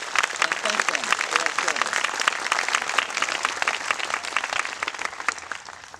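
Audience applause at a community event honoring local leaders and organizations, a dense, steady wash of clapping from many hands lasting throughout, with some voices audible beneath it before it tapers slightly at the end.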